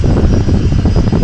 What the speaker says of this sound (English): I don't know if you can hear the jet noise, but they have a jet on standby.